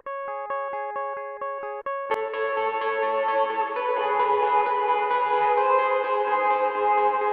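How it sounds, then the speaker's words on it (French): Electric guitar in a drill remix: a few clean, dry notes, then a chord rings out awash in heavy reverb and a shimmering chorus, sustaining long and full. "il faut surtout utiliser beaucoup de reverb et un peu de chorus."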